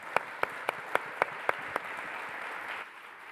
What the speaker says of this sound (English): So I want to just give one last round of applause for our panel.